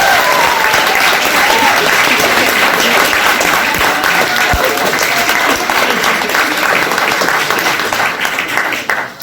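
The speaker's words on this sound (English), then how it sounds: "I want to give a huge round of applause to Miss Cameron" A school audience at a Year 11 graduation ceremony applauds loudly and continuously, the dense clapping holding steady for several seconds before starting to thin at the end.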